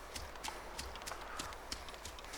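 Hooves of a goat running in the DayZ video game, a faint, quick irregular patter of light footfalls spread evenly across the short stretch with no talk.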